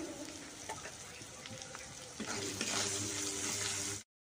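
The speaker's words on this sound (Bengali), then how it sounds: "এখানে আমি দিয়ে দেবো আদা রসুন আর একটু জিরে, ভালো করে এগুলোকে আমি ভেজে নেব" Ginger, garlic and cumin fry in oil for a village-style potol chingri, a soft crackling sizzle with light stirring taps that swells into a brighter, louder hiss halfway through before cutting off.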